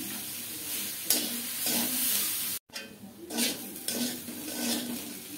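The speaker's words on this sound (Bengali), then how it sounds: "এবার আর ঢাকা দেব না, এভাবে নেড়ে নেড়ে ভাজি করে নেব, জাল কমিয়ে দিয়েছি।" Vegetables stirred and fried in oil in a pan over a low flame: a close, continuous sizzle with repeated scraping sweeps of a spatula, one brief break midway, and no talking.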